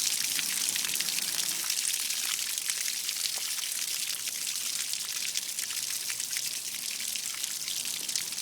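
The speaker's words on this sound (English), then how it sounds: "open the pressure relief valve and let the water flow a little more freely" Water draining from an RV water heater through its open pressure relief valve, a continuous hissing splash and trickle at steady level throughout.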